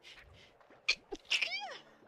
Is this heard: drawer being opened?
no